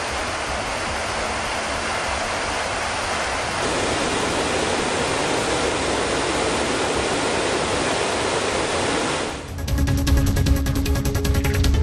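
Water rushes steadily at Kovai Kutralam waterfall, a loud, dense continuous roar that shifts in tone near the end without pausing.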